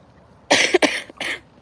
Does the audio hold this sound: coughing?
yes